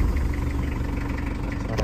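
A 2002 Mitsubishi Kuda Grandia diesel idling with the doors open, giving a steady, low, rhythmic engine clatter for a couple of seconds, fairly faint and without speech.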